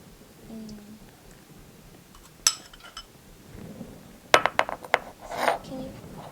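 A utensil stirs mixed vegetable fried rice in a pan, with scattered metallic scrapes and clinks close by, sparse at first and then a quick cluster of sharper knocks.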